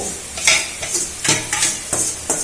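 A spice tempering sizzles in hot oil in a home kitchen, with rhythmic stirring scrapes about every half second over a continuous frying crackle.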